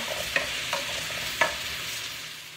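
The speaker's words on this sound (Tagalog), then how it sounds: "Ayan po, haluin natin. At lagay na natin ang turmeric, salt, then black pepper." A spoon stirs turmeric, salt and black pepper through a sizzling pot for Arabian salona marag, with a few soft scraping strokes over a faint, steady frying hiss.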